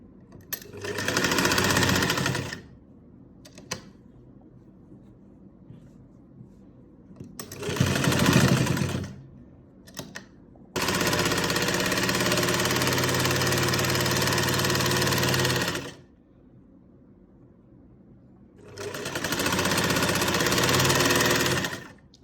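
A sewing machine double-stitches a sleeve seam in four separate runs, each lasting a few seconds with quiet pauses between, the longest a steady five-second burst of fast, even whirring.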